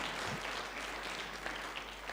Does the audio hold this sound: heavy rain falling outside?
no